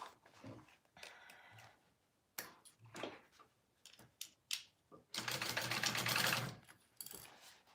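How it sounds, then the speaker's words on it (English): A sewing machine stitches a 1/4 inch seam allowance along the far side of a zipper, with short intermittent bursts of stitching and one longer steady run near the end, fairly close and with no talking. "we're going to sew that on the other side of the zipper, a 1/4 inch, yeah, 1/4 inch seam allowance"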